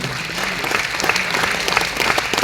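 A gathering of Rotarians on World Polio Day gives sustained applause, many hands clapping steadily at moderate loudness with no voices above it.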